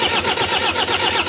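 A Toyota Hiace van's engine turns over and runs with a loud, steady, close-up mechanical drone that pulses rhythmically, with no voices.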